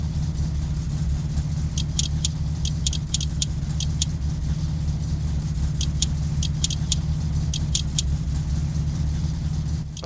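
Repeated ratchet clicks in short bursts from loosening car bolts in My Summer Car, sharp and fairly close, heard over a steady low engine-like drone throughout.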